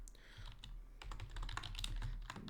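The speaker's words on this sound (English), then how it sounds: "we can type over here" Rapid keystrokes on a computer keyboard while setting up a website for an accounting business, a close, steady stream of clicking clatter with no voices.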